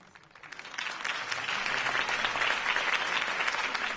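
Crowd applause at Harvey Dent's campaign rally in a PS4 video game swells up from quiet within half a second into a dense, steady wall of clapping that holds evenly to the end.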